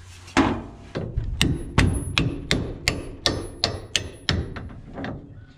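A hammer drives a stack of parts, a gear among them, onto the shaft of a John Deere 300 corn picker husking bed. Roughly a dozen sharp, evenly spaced metallic blows land close by and alone, about two per second.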